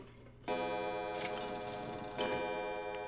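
A mechanical clock ticks after its pendulum is put back in place in the video game Resident Evil 7, sounding as a steady, close, resonant tone with a second chime-like swell partway through, no talk.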